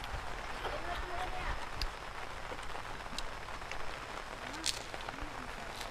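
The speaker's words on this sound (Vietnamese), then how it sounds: "Mưa à?" Rain falls steadily in Da Lat, a soft broadband patter of drops on surfaces with occasional sharper taps, fairly faint, while people talk quietly nearby.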